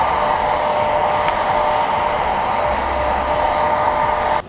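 A hair dryer blows steadily on braided hair, a loud, continuous whooshing hum that holds unbroken for several seconds and cuts off abruptly at the very end.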